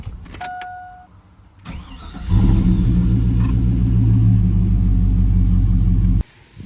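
A car engine cranks and catches after transmission work, settling into a loud, steady close-range idle rumble for several seconds before cutting off abruptly near the end.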